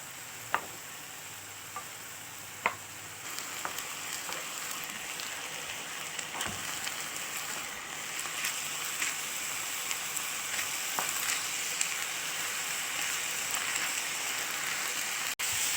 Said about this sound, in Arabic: وبعد ما شوحنا اللحمة والبصل والطماطم